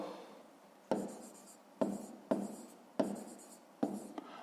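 Pen writing by hand on paper while working a 5th-grade maths exercise, heard as a series of about six short scratchy strokes in separate bursts, fairly close and quiet, with no talking.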